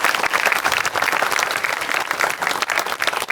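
A live comedy show audience bursts into loud, sustained applause, dense clapping from a crowd that stays even for a few seconds.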